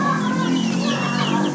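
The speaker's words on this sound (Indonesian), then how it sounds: "ayam yang kita punya adalah benar-benar ayam KUB" KUB chickens on a farm cluck and chatter together over a steady background, close and fairly loud, without talk.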